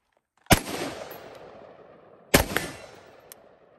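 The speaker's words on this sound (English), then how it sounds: "So bolts locked back open, magazine in, and I could drop the bolt like so." The bolt of a Bren 2Ms carbine dropping shut after a bolt release press, two sharp metallic slams about two seconds apart, each loud and close with a brief ringing decay.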